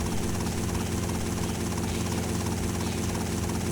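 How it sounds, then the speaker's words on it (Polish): A helicopter in GTA Vice City Stories drones with a steady, loud rotor and engine roar, constant and unbroken throughout. "latałem tymi helikopterami, ale nie pamiętam za bardzo"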